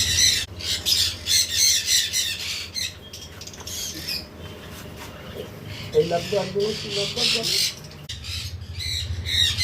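Cockatiels in a breeding aviary colony give repeated sharp, loud squawks in bursts, with someone talking nearby between and over the calls.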